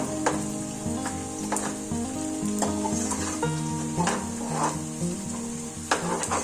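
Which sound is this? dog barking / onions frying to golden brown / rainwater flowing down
onions frying to golden brown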